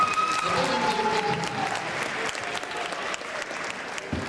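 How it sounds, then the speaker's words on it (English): School audience at a Jersey City high school giving the principal a big round of applause, a broad steady roar of clapping hands from a crowd, with a brief whistle early, fading slightly near the end. "Let's give the principal a big round of applause"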